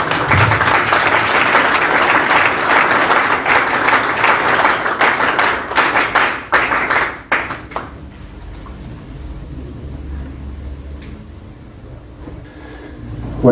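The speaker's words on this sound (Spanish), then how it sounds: "Fuertes aplausos, por favor, comencemos." Loud, sustained audience applause at a political gathering in support of Venezuelan freedom, a thick roar of clapping that thins and fades out after about seven seconds, leaving a quiet room with low background hum.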